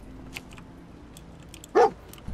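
The dog companion in the Fallout 4 video game gives a single short, fairly loud bark over a steady background hiss.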